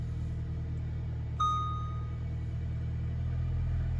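A Volkswagen Tiguan idles just after a battery replacement, a steady low engine hum throughout with a brief high electronic chime partway through.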